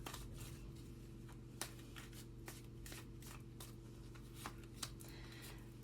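Tarot cards are shuffled by hand in a quiet room, a run of soft, close riffling flicks with a few sharper snaps, steady for several seconds over a low background hum.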